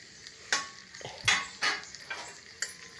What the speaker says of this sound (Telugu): ఇగో టమాటాలు వేస్తున్నాను.